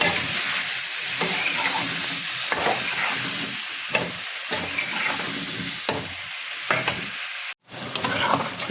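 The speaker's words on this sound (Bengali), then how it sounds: "এবার লাউটা কষিয়ে নেব।" Cut bottle gourd sautés in a spiced paste in a hot pan, a steady close sizzle broken by repeated scrapes and stirs of the spoon, with no talking.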